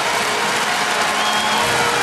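Crowd at a basketball arena during an NBL Grand Final game applauds and cheers in a dense, loud, continuous roar, with commentary faintly mixed underneath.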